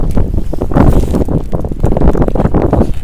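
Gusts of wind buffet the microphone at a snowy winter hammock-and-tarp campsite, a steady loud low roar that swells and dips throughout with no talking.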